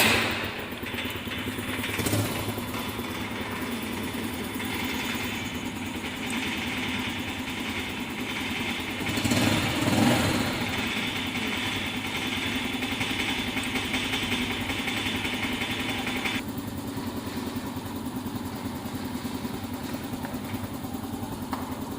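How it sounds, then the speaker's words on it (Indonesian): A motorcycle's engine runs at a steady idle during an electrical system check, a close, continuous low putter with a brief rise in the middle. "Kita nyalakan sepeda motornya."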